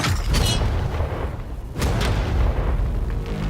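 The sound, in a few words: tank firing a shot at a target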